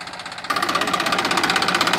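A Massey Ferguson 1035 DI tractor, a 2011 model, runs with a tiller attached, its diesel engine throbbing in a fast, even, rhythmic chug close by that grows louder after a moment, with no talk.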